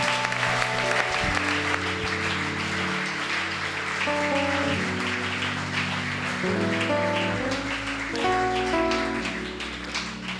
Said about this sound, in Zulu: Shaya izandla bazalwane, sibonga uNkulunkulu.